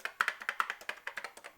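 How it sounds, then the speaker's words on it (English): Typing on an Apple IIe computer keyboard from 1987, about fifteen crisp, close key presses in a quick, slightly uneven rhythm, alone in a quiet room. "Everything had to be typed in with the keyboard, even the games."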